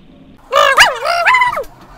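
A dog gives one loud, close, whining bark-howl with a sliding pitch. It sounds cartoonish and could be a voiced imitation.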